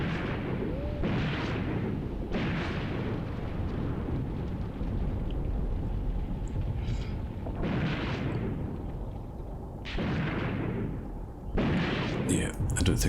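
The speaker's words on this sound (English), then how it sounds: "Looks like the tanks are happily engaging that 88." Tank guns fire at an 88 gun in the Graviteam Tactics video game, with a series of deep, booming blasts at irregular intervals over a constant rumbling battlefield din; someone talks at one point.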